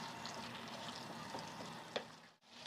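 Chicken coated in masala being stirred in a pan, a soft steady sizzle with faint scraping strokes and a small knock near the end, quiet and close with no talking.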